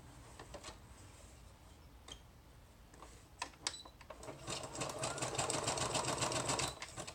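Sewing machine stitching lace trim onto a fabric belly band pocket: a few short isolated stitch bursts, then a steady, faint run of rapid mechanical stitching that continues to the end.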